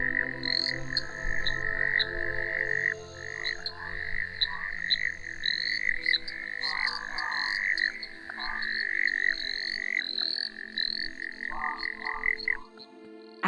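Male Littlejohn's tree frogs call in a dense, continuous chorus, their repeated croaking notes overlapping steadily and loudly throughout with no voices.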